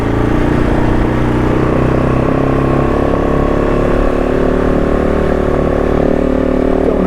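A KOVE 450 Rally motorcycle engine runs steadily close by, a loud continuous mid-pitched drone with a slight rise in revs, heard alone on a narrow, steep lane.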